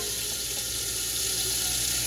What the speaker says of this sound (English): And what I'm going to do is add a little water.